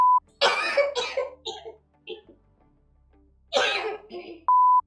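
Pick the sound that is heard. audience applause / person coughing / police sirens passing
person coughing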